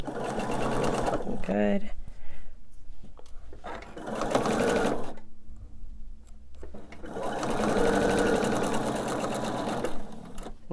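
A sewing machine stitches fabric for a fussy cut Rock Candy quilt block in bursts, with loud runs near the start and end and a pause in the middle, while someone talks briefly over it.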